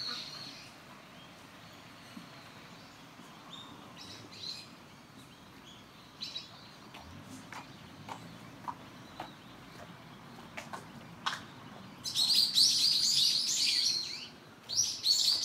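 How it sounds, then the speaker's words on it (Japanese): Small birds chirp and tweet at a Shinto shrine grounds, scattered short calls at moderate distance, building into a denser, louder burst of song near the end over a soft outdoor ambience. "鳥が鳴いてる。"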